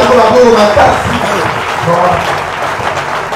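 A congregation at an evangelistic campaign meeting bursts into loud, sustained applause mixed with cheering voices, gradually easing off toward the end.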